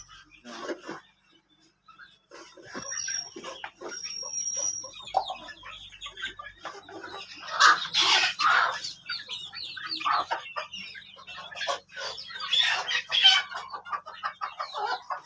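Siruvidai country chickens cluck and chatter continuously at feeding on a small poultry farm, with some louder squawks in the middle, close by while a person talks underneath.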